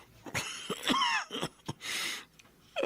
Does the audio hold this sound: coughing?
yes